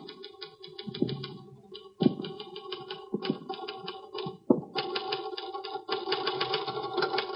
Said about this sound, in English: Mr. Thurston, That's an interesting letter you're typing